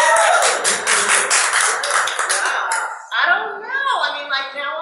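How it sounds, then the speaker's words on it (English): A studio audience claps together on a cooking advice show, a dense, loud wash of hand claps that fades after about three seconds as a voice begins speaking. "Audience, let me hear your hand clap if you like having a gentleman."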